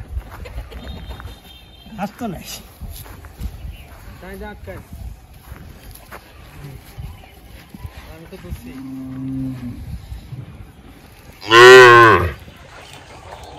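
Cows outdoors after a long stretch kept indoors in winter, with a loud close moo late on, over scattered farm noise and people talking.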